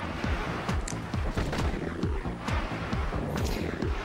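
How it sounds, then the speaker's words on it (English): Fireworks in a video game demo crackle and thump as a dense run of rapid, overlapping pops and booms, loud and continuous over a constant noisy background, with no voices. "Enough of a trick where fireworks happened."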